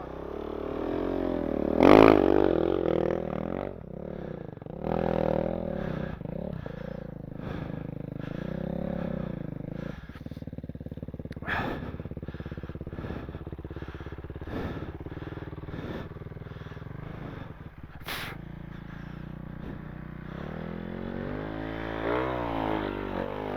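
A KTM 690 Enduro single-cylinder motorcycle rides off-road through soft, deep ground, its engine chugging and revving unevenly at a steady, moderate level, with occasional clatters and a sharp knock.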